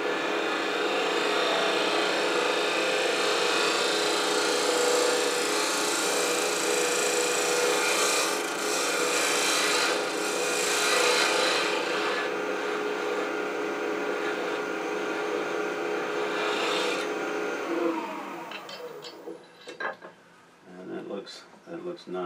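A negative rake scraper shear-scraping a wooden burl insert on a lathe gives a steady, close rasping scrape that runs continuously for most of the clip before tapering into lighter, broken scrapes near the end.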